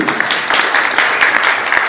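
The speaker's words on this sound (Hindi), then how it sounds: "जोरदार तालियां बजी" A crowd at a Jangid community function in Haryana, welcoming the newly appointed Labour Welfare Board chairman Naresh Jangra, bursts into loud, continuous applause, dense and close, with no pause in the clapping.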